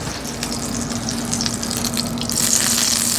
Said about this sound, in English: add a couple tablespoons of butter into my cast iron there, and we'll get that melting